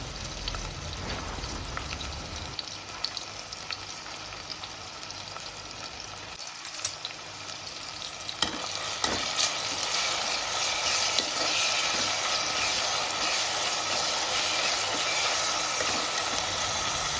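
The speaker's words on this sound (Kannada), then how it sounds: "ಹಾಗೆ ಕೊನೆಗೆ ಟೊಮ್ಯಾಟೊವನ್ನು ಹಾಕಿ ಸ್ವಲ್ಪ ಆಚೆ ಈಚೆ ಬಾಡಿಸಬೇಕು" Tomato and salt sauté in a hot pan while being stirred back and forth, a steady sizzle with scraping stir strokes that grows louder partway through, no voices.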